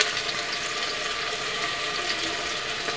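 Finely chopped onions frying in hot oil inside a pressure cooker, a steady loud sizzling hiss that runs unbroken, with no talking over it.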